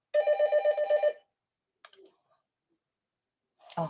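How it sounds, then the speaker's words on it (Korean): A telephone rings during an online lecture, a rapid trilling ring for about a second, followed by a few faint clicks and a brief rustling knock near the end, with no talking. "전화가 오다가 말았어요"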